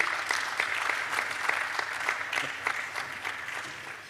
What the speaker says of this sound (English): Please clap for Mr. Emmanuel.